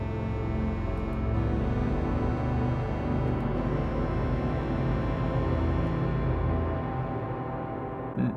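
Sonicware Texture Lab granular effect with blend turned up toward the octave-down side, a thick continuous smeared chordal drone holding steady for several seconds before thinning slightly at the end.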